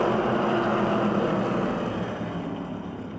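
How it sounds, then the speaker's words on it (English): Modified open-wheel race cars roar off at the green flag of a 20-lap race at Motordrome Speedway, a loud, dense, continuous engine drone that tapers slightly toward the end. "Here's the green flag, 20 laps of Smale Pontiac GMC modified racing."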